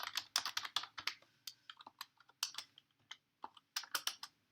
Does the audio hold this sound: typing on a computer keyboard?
yes